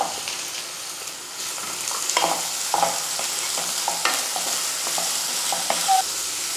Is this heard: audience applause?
no